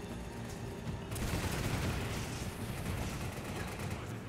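Enemy gunfire in Resident Evil 5 rattles in a dense, continuous barrage with crackling shots and a low rumble, loud and close throughout.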